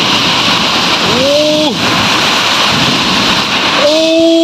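Heavy storm rain pours in a steady loud roar throughout, with deep rumbling underneath and brief whistling tones rising over the downpour; no clear talking.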